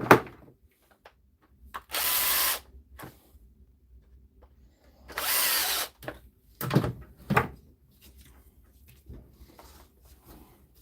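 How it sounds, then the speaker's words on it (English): A power drill drives screws in short bursts, with two longer whirring runs and a few brief pulses separated by quiet gaps and small knocks. "Put these screws in."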